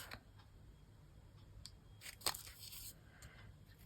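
Scissors cut through a paper journaling card, a few faint snips followed by one sharper, louder cut, close and otherwise quiet with a soft background hiss.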